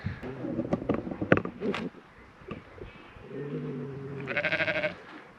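Sheep bleat in a field, several wavering cries close by, the last one long and loud, with quieter rustling and bumping between them.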